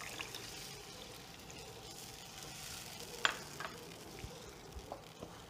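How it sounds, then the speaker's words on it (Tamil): Tamarind water goes into a pan of sizzling ginger and green chillies for an Onam festival lunch dish, giving a steady, soft frying hiss with faint pouring and small splashing pops throughout. "ஸோ அந்த புளி தண்ணியை வந்து இதில் ஆட் பண்ணிக்கலாம்."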